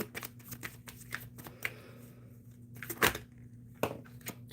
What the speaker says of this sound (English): But I'll give an even better shuffle for B.